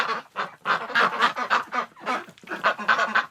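Ducks in a winter pen on a very cold day honk and quack loudly, a dense, near chorus of overlapping calls in rapid bursts with only brief gaps.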